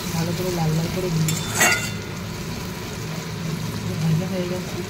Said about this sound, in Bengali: লাল লাল করে ভাজা ভাজা হয়ে পেঁয়াজটা একটু বেশি ভালো করে লাল লাল করে দিয়ে